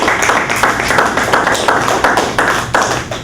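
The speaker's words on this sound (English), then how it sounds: "Oh, that's worth a clap. Go ahead, give a clap" A small audience at the Plainfield, NJ YMCA claps for Olympian Milt Campbell, producing sharp, close, fairly loud hand claps in a steady, slightly uneven rhythm, about two to three per second, with no talking over them.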